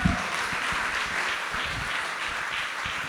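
Audience applause at a live blues concert at The Tabernacle in London, a steady dense wash of clapping from the crowd that holds level throughout, with no voice over it.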